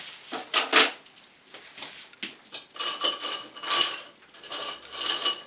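Straight knife scraping hair contour lines close to the skin during a men's haircut, a series of short, crisp scraping strokes in irregular bursts, close and fairly loud, with no talking.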